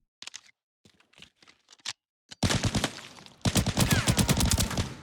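Rapid automatic gunfire from a weapon test-fired at the shooting range in Arena Breakout Infinite, starting with a few short sparse shots, then two loud sustained bursts of fast, evenly spaced reports up close.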